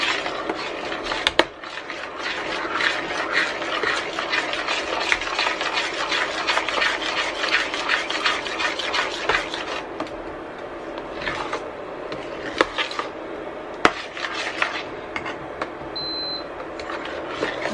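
A spoon scraping and stirring thickening coconut corn pudding (maja blanca) in a pan, a continuous rasping rub with occasional sharp ticks of utensil against metal and a brief beep near the end.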